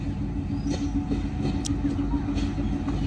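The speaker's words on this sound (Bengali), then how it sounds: "ট্রেনের হরেন, ট্রেনের শব্দ" A train rumbles steadily past a quiet rural station, a dense continuous roll of wheels and carriages close by with faint high squeals overhead.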